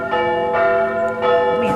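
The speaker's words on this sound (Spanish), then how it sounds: "las campanas llamándole a la misa" Church bells ring for Sunday mass, with a rich resonant tone and a few overlapping strikes that swell and sustain.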